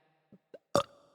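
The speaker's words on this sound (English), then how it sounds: "I'll burp once." A single short, forced burp done on command, preceded by two faint little gulping sounds, then a brief close-up belch that trails off quickly; no one talks.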